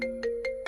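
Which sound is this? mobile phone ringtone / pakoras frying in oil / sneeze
mobile phone ringtone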